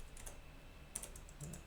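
Soft, quick keystrokes on a computer keyboard while typing code, a few faint clicks scattered over a low background hiss.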